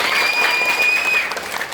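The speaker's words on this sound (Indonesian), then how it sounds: "Tepuk tangan ini luar biasa." Audience applauding at a school arts performance at an Islamic junior high school, a dense steady clapping that fills the moment and eases slightly near the end, with a faint tone running underneath.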